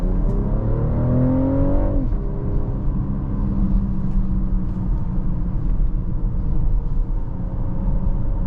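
A 2024 BMW X6 40i SUV engine pulls hard under acceleration while driving, a loud, steady rumbling drone with rising engine tones early on, heard from inside the cabin with no talk.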